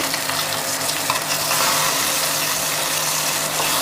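Pond fish frying in hot oil in a wok make a loud, dense, unbroken sizzle right up close, steady throughout and not joined by any speech.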